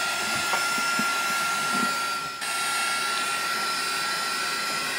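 A heat tool blows a steady, loud whirring roar as it dries ink spray on a paper craft piece, with a brief dip partway through before the airflow resumes.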